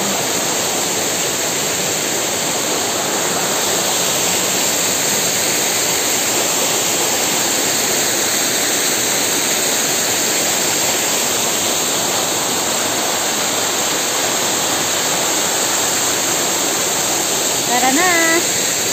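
A waterfall at Little Hawaii in Hong Kong pours in a steady, full rushing roar close by, continuous throughout, with a brief chirp near the end.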